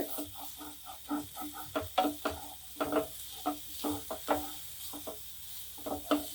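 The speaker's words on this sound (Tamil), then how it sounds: "இப்போது கோஸை லேசாக கிளறி விடுவோம்" Cabbage stirred in a pan with a spoon, giving a quick series of close scraping and clacking strokes over a faint sizzle, rhythmic and fairly soft, with no talking.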